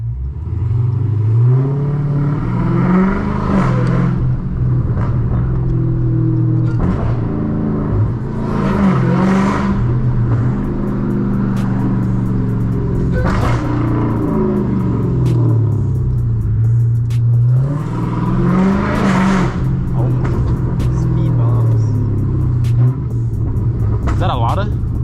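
A 1000hp Dodge Hellcat Redeye engine burbles while driving, a loud, deep rumble that swells and falls in repeated rev cycles throughout.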